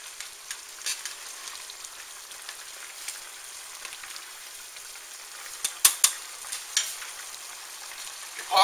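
Ground beef browns in a frying pan for Johnny Marzetti, a steady soft sizzle with scattered pops and a few louder scrapes near the end, close and alone with no talk.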